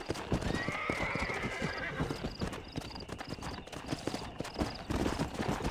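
Rhythmic clip-clop of horse hooves moving at a steady pace in the video game Red Dead Redemption, with a horse whinnying partway through, close and fairly clear.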